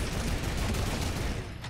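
Video game gunfire crackles in a dense, continuous volley of rapid shots that fills the whole moment at a steady, moderately loud level.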